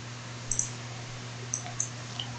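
Buttons pressed on a scientific calculator while entering complex numbers, a handful of small faint clicks in short irregular pairs over a steady electrical hum, with no voice.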